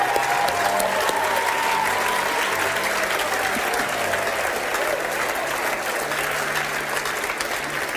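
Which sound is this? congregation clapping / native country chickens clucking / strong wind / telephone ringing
congregation clapping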